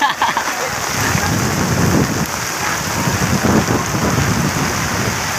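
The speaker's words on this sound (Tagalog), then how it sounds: "Ay, lakas na ulan oh. May kasama pang hangin guys." Heavy rain pounds a surface in a steady broadband wash with gusts of wind, close and loud throughout; a voice speaks briefly at the start.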